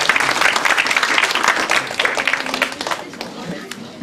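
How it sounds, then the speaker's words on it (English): Lively audience applause at a Christmas science lecture, a warm burst of many hands clapping that fills the room and then gradually thins out, with a voice briefly heard over it near the end. "Why don't we give her a round of applause?"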